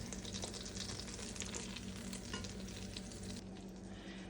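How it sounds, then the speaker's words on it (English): Butter melts in a soup pot with a faint, steady sizzle and soft crackle, quiet and close throughout, with no talk. "I'm just melting my butter."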